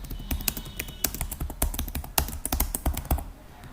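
Code being typed on a computer keyboard while building a Node REST API with Firebase Cloud Firestore: rapid, irregular clicking keystrokes close to the microphone, some louder taps standing out, with no talking.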